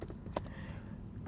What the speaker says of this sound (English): Oh god, that was terrible typing.